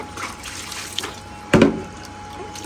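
Water being filled outdoors on a farm during hot weather, a soft running trickle with one brief loud splash midway.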